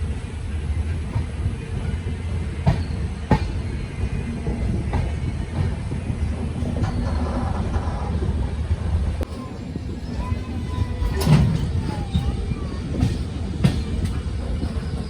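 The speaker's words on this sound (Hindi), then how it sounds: "बाड़मेर सुपरफास्ट का 5 मिनट के होल्ड के बाद चूरू जंक्शन से डिपार्चर होता हुआ" Barmer Superfast Express pulling out of Churu Junction after a hold, a steady loud rumble of rolling coaches with rhythmic wheel clicks and brief metallic squeals, heard from nearby.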